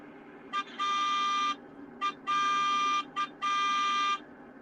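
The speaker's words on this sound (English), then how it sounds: "if you pull the whistle, it just has a car honk sound" A car horn from a train video game, used as the train's whistle, honks three times in short-long patterns, each a quick tap followed by a sustained blare, loud over a quiet low rumble.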